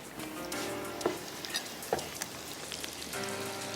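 Cauliflower frying in a pan gives a steady sizzle, with a few sharp clicks of a spoon against the pan; the hiss eases briefly in the middle before swelling again.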